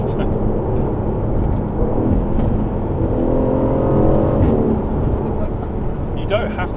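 A cheap Audi saloon fitted with a Lamborghini V10 engine drones loudly under steady acceleration, a continuous engine roar from inside the car with a voice talking over it.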